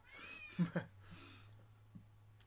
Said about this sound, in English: So I got a cat under here.